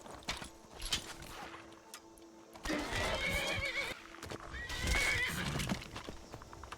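A horse in a video game whinnies loudly twice, each neigh followed by hoof clops, with a faint background tone between calls.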